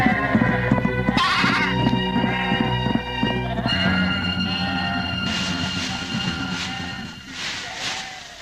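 Several goats bleat repeatedly in overlapping, wavering calls, close and loud, with a low rumble underneath.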